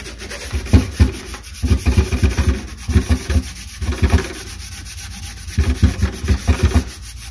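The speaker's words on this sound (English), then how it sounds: "so it's helping if you scrub it really good" A proton pack ribbon cable from a Ghostbusters Afterlife prop is scrubbed hard by hand, making close, rhythmic bursts of brisk rubbing and scratching in quick strokes with brief pauses between them.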